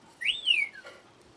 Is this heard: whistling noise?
yes